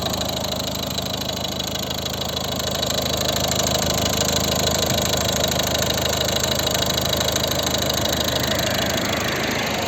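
A 2012 Volvo V50 1.6 diesel idles nearby with a constant low rumble and mechanical hum, running evenly throughout with no voices.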